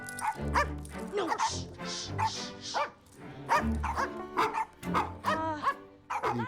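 A lot of dogs barking and yipping, recorded for a film, with repeated close, loud barks in quick bursts that have short pauses between them.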